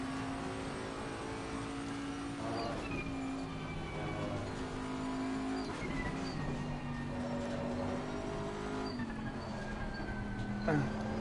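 A GT3 race car engine drones loudly and continuously during a racing game championship, its pitch rising and falling through several gear shifts as the car understeers wide through a corner.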